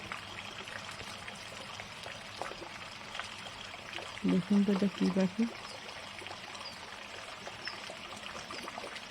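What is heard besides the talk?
rain falling outdoors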